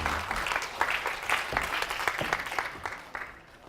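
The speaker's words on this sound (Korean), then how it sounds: "선교사님 나오실 때 뜨거운 박수로 환영해 주시기 바랍니다." An audience at a Korean mission training conference breaks into steady, dense applause to welcome a missionary speaker. The clapping is continuous and fairly close, tapering slightly toward the end, with no talk.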